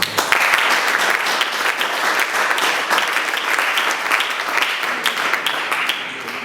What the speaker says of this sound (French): nous allons applaudir pour elle